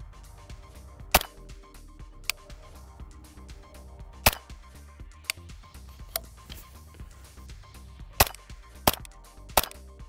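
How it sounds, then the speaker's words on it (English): A rifle fitted with a Dead Air Sandman K suppressor fires subsonic 300 Blackout rounds, producing a series of short, sharp cracks at irregular intervals over a low, steady background rumble. "let's mount the Dead Air Sandman K and see how this thing sounds with subsonic 300 blackout"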